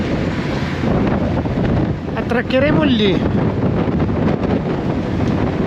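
Strong wind buffets the microphone on the open deck of a ferry carrying a motorbike along Ireland's Wild Atlantic Way, a constant loud roar with water and engine noise beneath and a brief spoken voice.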